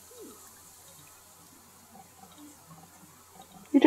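A broken shower in The Sims 4 sprays water with a steady, low hiss, with a few faint game sounds and a brief louder burst at the end.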